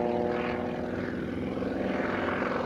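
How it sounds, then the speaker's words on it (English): Aerobatic airplane powered by a Pratt & Whitney R985 radial engine with direct port fuel injection, droning steadily and loudly throughout an airshow pass with a rich, even propeller hum and no voices. "This aircraft was a testbed for the world's first direct port fuel injection system for the R985 Pratt & Whitney"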